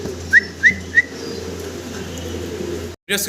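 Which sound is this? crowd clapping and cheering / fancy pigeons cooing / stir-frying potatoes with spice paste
fancy pigeons cooing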